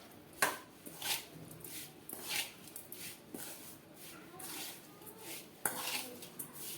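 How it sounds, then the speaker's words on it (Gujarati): Carrot pickle being mixed with spice masala in a kitchen: scattered clinks and scrapes of a utensil against a pot or bowl, with a few sharper knocks, close and fairly quiet. "હવે આપણે અથાણાને મસાલાની સાથે મિક્સ કરી દઈએ."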